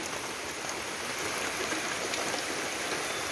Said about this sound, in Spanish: miren que está lloviendo.